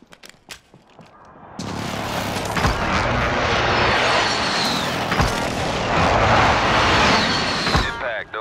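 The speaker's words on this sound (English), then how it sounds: "Designating target for airstrike." Airstrike explosions in Call of Duty Warzone on Rebirth Island. A few sharp shots lead into a sustained, dense barrage of booms and rumbling blasts that stays loud throughout.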